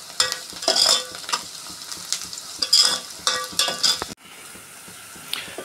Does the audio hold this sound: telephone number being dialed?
no